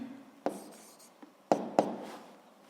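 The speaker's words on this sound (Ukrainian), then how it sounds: "Записуємо відповідь, пишемо відповідь." A pen writes an answer on paper during a physics lesson, with faint, close scratching strokes broken by a few sharper taps over a quiet background.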